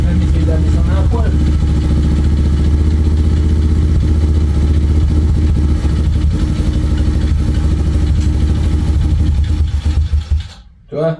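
A 110 Rookie motorcycle engine, freshly swapped, idles with a steady low chugging rumble and mechanical clatter close up, then cuts out abruptly near the end.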